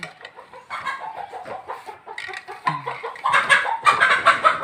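Chickens cluck and squawk nearby during traditional Phu Thai plaid cloth weaving at home, a busy run of overlapping calls and short cackles that grows louder toward the end, with no talk.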